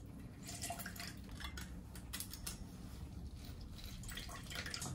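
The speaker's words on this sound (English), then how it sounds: "So I'm gonna squeeze a whole lemon." A whole lemon is squeezed by hand for a whiskey sour, giving faint, scattered drips and trickles of juice against a quiet room.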